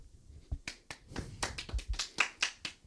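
About a dozen sharp hand claps in a studio, close and fairly quiet, coming in an uneven rhythm with no talk over them.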